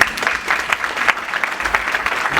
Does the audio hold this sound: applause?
yes